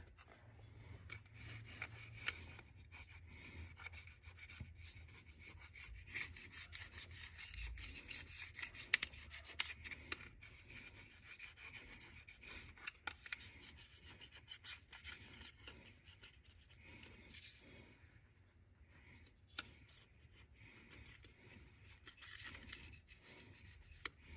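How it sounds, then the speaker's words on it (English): Old shirts and rags rub and wipe across engine surfaces on a 2014 Dodge Journey 3.6 AWD during an oil cooler change, a soft, continuous scrubbing and rasping at close range with small irregular bumps. "I'm just using old shirts and rags to clean this off."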